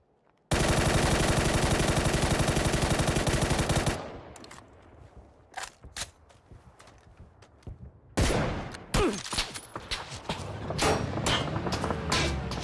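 Loud sustained burst of rapid automatic gunfire in PUBG for a few seconds, then scattered shots, clatter and bursts of further firing, all with a game-like punchiness.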